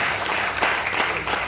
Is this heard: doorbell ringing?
no